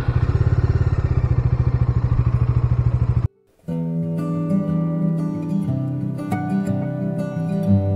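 Motorcycle on a road trip toward Kanyakumari: a steady, loud engine drone with a rhythmic pulse, cut by a brief drop, then a smoother hum with clatter and thumps.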